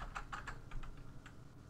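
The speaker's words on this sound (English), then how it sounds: "And let me type in his password" Someone types a password on a computer keyboard to log in to a remote Windows session, giving a quick run of soft, close key clicks that slows toward the end at a low level.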